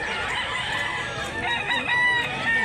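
A fighting rooster at a gamefowl sale in Mantalungon, Cebu crows once near and loud, with a clucking hen close by.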